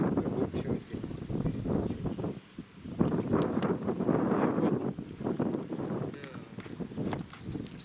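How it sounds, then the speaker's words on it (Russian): Strong, gusty wind on the Oka River during a fishing trip, buffeting the microphone in loud, uneven bursts and lulls, with muffled sounds of water and activity at the bank underneath. "Да ветер не дает ловить."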